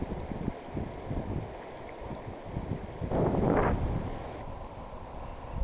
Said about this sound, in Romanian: vântul este foarte puternic